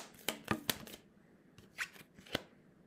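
Oracle cards shuffled for a reading: a few crisp riffling bursts in a quick cluster, a pause, then two more isolated card flicks, close and fairly quiet.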